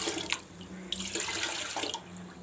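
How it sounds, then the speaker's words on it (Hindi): Water pours steadily into a cooking pot of lentils with salt for haleem, a continuous splashing gush close by with no talk. "नमक डाल के इसमें 2 लीटर पानी डाल देना।"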